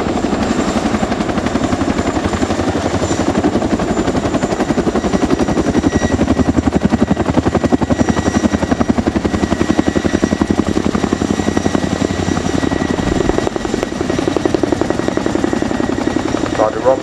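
An RAF Chinook HC.6A twin-rotor helicopter performs a flying display at an airshow, its loud, rapid blade thump pounding continuously throughout, with a commentator's voice over the PA mixed in.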